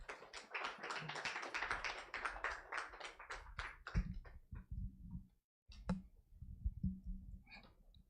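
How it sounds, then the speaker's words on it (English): Applause from an audience at a company launch event in a hotel: a steady, dense patter of clapping for several seconds that thins out into scattered individual claps before fading. "Let's give him a round of applause."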